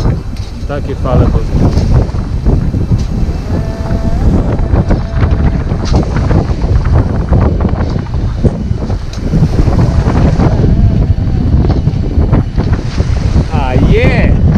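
Waves wash and slap around a sailboat on a solo Atlantic crossing, a loud, steady rush of water mixed with heavy wind buffeting the microphone.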